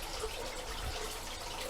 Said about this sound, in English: excuse the water dripping down